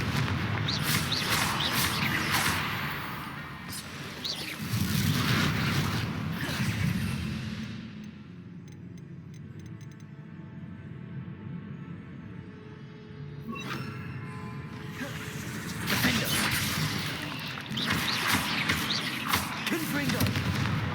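Confringo fire spells cast in the Hogwarts Legacy video game burst as loud booming blasts in clustered volleys, falling quiet for several seconds midway before another round of explosions, with game ambience between them.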